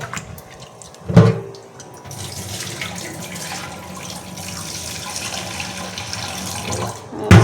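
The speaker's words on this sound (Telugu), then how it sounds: "ఇంక ఈ పూట తిందాము అన్నం అని చెప్పి బియ్యం కడిగి పెడుతున్నాను అనమాట." Rice being washed under running tap water in a home kitchen, a steady splashing stream with sharp clattering bursts near the start and end, close and fairly loud, with no talk.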